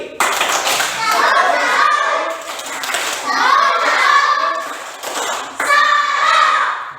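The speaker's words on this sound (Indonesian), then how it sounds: "tepuk salam dulu untuk kelompoknya Adrianus itu" Students in a classroom repeat the "tepuk salam" clapping chant for a student group, three loud rounds of rhythmic clapping blended with children chanting in unison.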